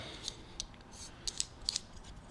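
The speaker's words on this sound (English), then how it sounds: "See that? Squeezes it, opens up the clamp." Handee Clamp hand tool squeezing open a hose clamp, a few faint, sharp metallic clicks and snaps in quick pairs, quiet and close.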